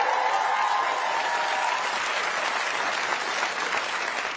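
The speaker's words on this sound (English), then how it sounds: "You clapped too early." A studio audience claps and cheers during a comedy news show, with dense, loud applause that holds steady throughout and fades slightly at the end.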